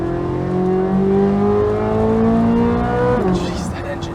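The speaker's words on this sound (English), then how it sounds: "that engine. It revs out so high." A Chevrolet Corvette C8 Z06 with a mid-engine flat-plane-crank V8 revs up high and holds a loud, climbing wail before dropping off sharply, close and dominant.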